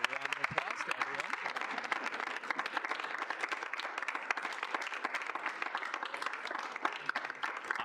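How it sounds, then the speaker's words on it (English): A student senate gathering breaks into sustained applause, many hands clapping in a crisp, continuous patter that lasts several seconds, with a brief voice at the start. "we'll go ahead and give a round of applause to everyone"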